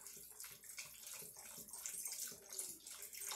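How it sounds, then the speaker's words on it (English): Beef stock from a 32-ounce box poured into a crockpot over canned mushroom soup, giving a steady splashing, gurgling pour that lasts the whole stretch with no talk. "And then we take a whole 32-ounce box of beef stock. We're going to pour that all over."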